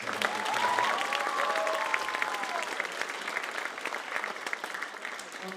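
A concert audience claps for a school choir, steady and full crowd applause that holds for several seconds with a brief cheer early on, gradually easing off toward the end.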